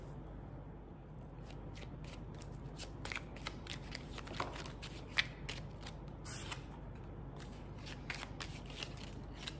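Oracle cards shuffled steadily for a tarot-style reading, a close, continuous papery riffling and sliding with small snaps and taps throughout, alone with no talking.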